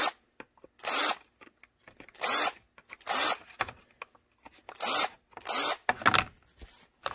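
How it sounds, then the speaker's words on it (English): An electric drill fitted with a countersink bit whirs in repeated short bursts, each about half a second, cleaning up holes in a holster, with quiet gaps and faint scraping between, close and loud. "So I also have my countersink bit on a second drill."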